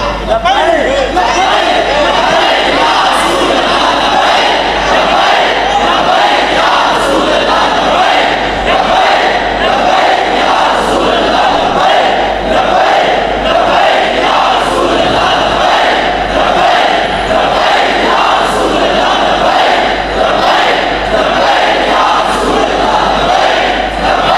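Large crowd at a religious gathering honouring Imam Hussain, loudly chanting slogans together in a steady, rhythmic roar of massed voices.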